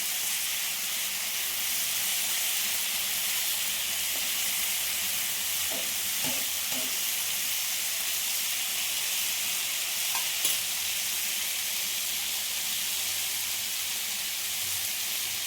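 Homemade paneer and vegetables with tomato sauce sizzle and hiss steadily in a pan, with a few soft scraping stir strokes near the middle and one more toward the end.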